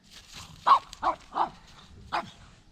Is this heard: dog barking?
yes